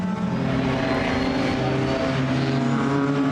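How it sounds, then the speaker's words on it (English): Group A BMW M3 race cars run together at Goodwood, their engines a loud, sustained droning note with shifting pitch as they pass through corners. "Minshaw and Revalia, a great little run seeing those two together as they go through St Mary's and into the dip."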